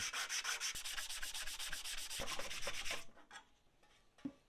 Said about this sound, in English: and then gave everything a hand sanding.